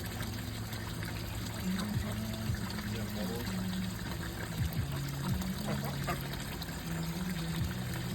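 Water pours steadily into a duck pond, making a continuous trickling, splashing flow, while a person speaks over it.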